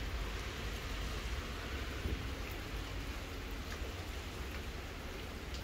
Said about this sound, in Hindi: ये देखें बाहर बारिश हो रही है